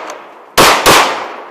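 Two sharp, loud rifle shots crack in quick succession at a Marines firing range, each blast ringing out briefly before fading.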